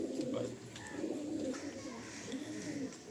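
A female pigeon coos in low, repeated murmurs that run steadily under some background noise, with faint chirps mixed in.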